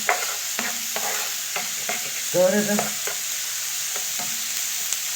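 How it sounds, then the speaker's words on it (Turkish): Chopped onions sauté in a frying pan, sizzling steadily while a utensil stirs and scrapes in short repeated strokes; one brief spoken word comes over the sizzle. "Soğanlarımı biraz soteleyeceğim."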